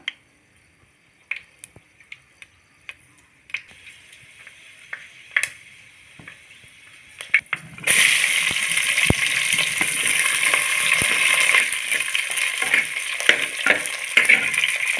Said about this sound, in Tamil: வெந்தயம் பொரியட்டும்